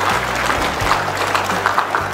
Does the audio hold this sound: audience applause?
yes